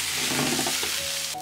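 Onion flatbread sprinkled with black sesame pan-frying under a lid, a dense steady sizzle with a faint clink near the end.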